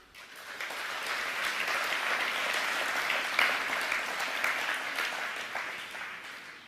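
A hall audience at a bank's 2022 general assembly applauds steadily, a dense, even wash of clapping that swells in and holds at moderate level for several seconds.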